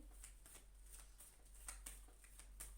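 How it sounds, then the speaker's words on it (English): A deck of tarot cards is shuffled by hand in a quiet room, giving a faint, close run of quick papery flicks at an irregular rhythm with no voices. "I don't choose the cards, I shuffle them, they jump"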